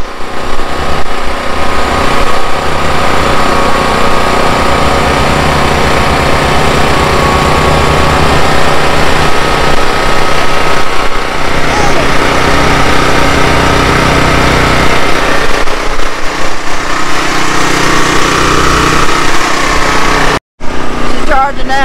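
A generator engine runs steadily on a farm, a loud continuous drone with a constant hum and buzz that barely varies, briefly cut off near the end before resuming.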